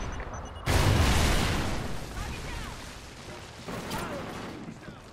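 A sudden loud explosion from a Trinity rocket strike in the Call of Duty Ghosts video game, followed by a rumbling decay and a second, smaller blast a few seconds later amid gunfire and battle noise.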